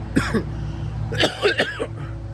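A few rough, throaty coughs sound close by in two small clusters, with a brief pause between them and no speech.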